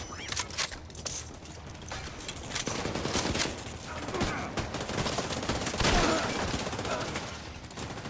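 Dense automatic gunfire in The Division 2, a continuous close fusillade of rapid shots with mechanical clatter running throughout.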